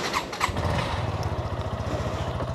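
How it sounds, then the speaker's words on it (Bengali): Motorcycle cold start: a brief starter burst, then the engine catches and settles into a steady, rapid idle chug, close and moderately loud with no talking. "বাইকের কোল্ড স্টার্ট দিয়ে নেওয়া যাক।"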